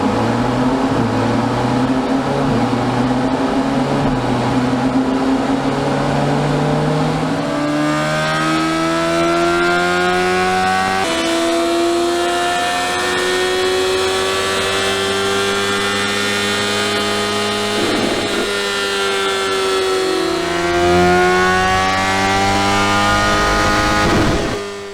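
A 2022 BMW S1000R motorcycle engine runs hard on a dyno, loud and close, its pitch climbing in stepped rises through the gears with a steady sustained roar and revving swells before cutting off at the end.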